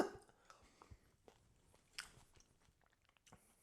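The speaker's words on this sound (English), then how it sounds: "you're constantly crunching on pecans and everything else" Orange pecan granola in milk from an Alpen Fuel breakfast pouch is chewed up close, giving soft irregular crunches and bites with no talking.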